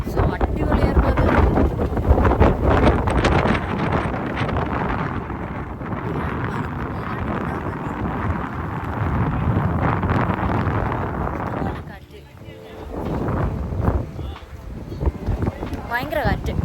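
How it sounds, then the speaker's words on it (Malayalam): Strong wind on top of the Dubai Frame buffets the microphone in loud, continuous rumbling gusts that ease briefly midway, while a voice talks over it. "ഭയങ്കര കാറ്റ്."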